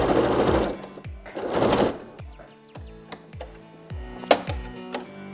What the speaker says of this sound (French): Et on va piquer 1 cm du bord à nouveau.